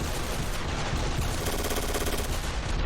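Constant gunfire in Ravenfield during a large Battle of Stalingrad scenario, with Mosin Nagant rifle shots mixed into a dense, distant-sounding wash of overlapping rifle and automatic fire, steady and unbroken.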